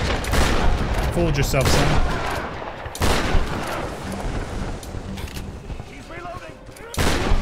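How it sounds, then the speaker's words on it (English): Shotgun blasts in Tomb Raider Definitive Edition, several loud booming shots spaced a few seconds apart amid game effects, with someone talking over them. "I guess we gotta kill some with a shotgun too"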